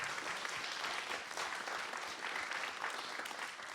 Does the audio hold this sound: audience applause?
yes